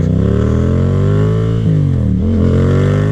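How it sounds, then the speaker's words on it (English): A Yamaha FZ-07 motorcycle rolls to a stop at a red light, its loud, close exhaust note sliding downward with a few brief pops and burbles. "You hear that popping? Just rolling to a red light and it's popping like"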